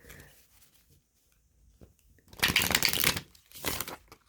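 Borderless Deviant Moon Tarot cards being shuffled, soft rustling early then two loud riffling bursts of slippery card stock, close up, with no talking.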